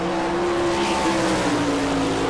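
A sprint car on a qualifying lap at an Ohio dirt speedway, its J&J chassis and Kistler engine howling at high, steady revs as it circles close by, loud and continuous with a slight pitch shift mid-lap.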